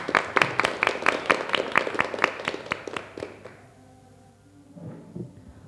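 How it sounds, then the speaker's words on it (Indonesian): Applause at a school quiz competition round in Blitar, a run of fairly sparse, sharp claps from a small group that fades out, followed by quiet room noise and a soft thump. "Boleh tepuk tangan untuk kloter 9"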